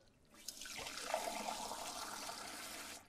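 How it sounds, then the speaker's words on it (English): Water gushes and splashes steadily for about two and a half seconds as containers are filled at a well in the Yosemite Forest Ranger video game, a sink-like running-water effect starting abruptly and cutting off cleanly. "Now if we go to the well and we fill our containers."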